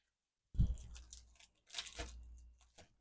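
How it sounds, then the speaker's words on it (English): Dull scissors chop through a bar of melt-and-pour honey soap, giving a sharp crunching cut followed by a second, softer rasping snip, close and fairly quiet. "Man, my scissors are not very sharp."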